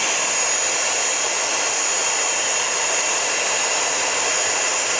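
An electric blower runs steadily with a loud, even high-pitched whoosh of rushing air, unbroken throughout.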